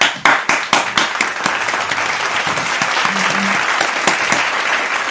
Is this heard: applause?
yes